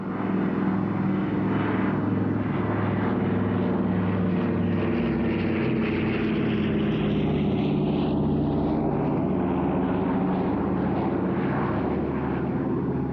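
A Lisunov Li-2, the Soviet-built DC-3 derivative propeller airliner, drones steadily overhead at a Russian Air Force airshow, its loud continuous piston-engine roar holding throughout with a slow shifting pitch as it passes.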